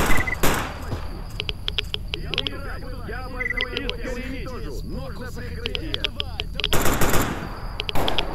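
Machine gun bursts in the video game S.T.A.L.K.E.R. Anomaly, loud rapid automatic fire opening and closing the stretch, with scattered shots and someone talking in between.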